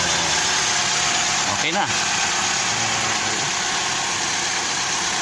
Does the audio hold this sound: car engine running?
yes